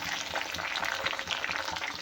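Curry leaves, mint and coriander fry in a pan with rice for Hyderabadi chicken dum biryani, giving a steady close crackling sizzle with soft stirring scrapes throughout.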